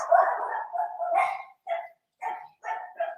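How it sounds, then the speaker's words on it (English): A dog barks repeatedly in a series of sharp, fairly close barks with short pauses between them, heard alone without talk. "Can y'all hear that? The dog's barking."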